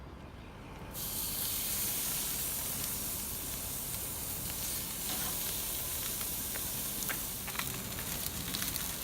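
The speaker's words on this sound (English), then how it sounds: "Now we just got to put it on the barbecue and sear it." Smoked rack of lamb searing on a backyard barbecue grill, a steady close sizzle and hiss that swells after the first second and holds evenly throughout, with scattered faint crackles.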